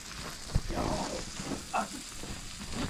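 Roe deer meat frying as kavurma in a pan, a steady close sizzle with occasional scrapes and stirring clatter, under soft background voices.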